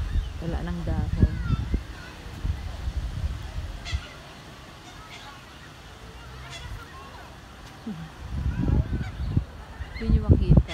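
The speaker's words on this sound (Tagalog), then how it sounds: "Daming ibon dito." A flock of birds honking in a park with bare winter trees, repeated loud calls in clusters near the start and end, a quieter stretch between, and people talking nearby.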